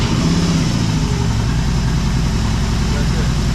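A BMW R18 motorcycle engine idles right after ignition, a loud, steady low rumble throughout with a brief uneven patch at the start and a voice talking over it.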